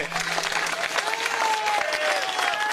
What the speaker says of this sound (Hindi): आप तमाम साथियों से रिक्वेस्ट है, एक जबरदस्त ताली हो जाए।